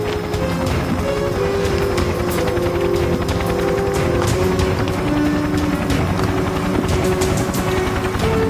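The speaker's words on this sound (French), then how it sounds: "L'hélicoptère nous laisse là?" A helicopter leaving an offshore platform, its rotor beating in a fast steady chop with a loud whining engine drone, staying strong and continuous throughout with no speech.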